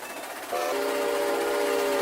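A Santa Fe 3751 steam locomotive in the RO-Scale Sandbox game running fast, its whistle blowing in a steady, sustained tone over a low rumble, moderately quiet.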